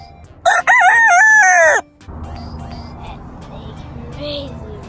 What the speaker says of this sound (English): Hello, crazy rooster.